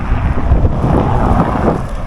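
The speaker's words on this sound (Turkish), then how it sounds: "Rüzgar da iyi esiyor ha." Strong wind buffets the microphone in a steady, low roar with gusty rumbling throughout, loud and close, with no voices, outdoors in Gölbaşı, Adıyaman, Turkey.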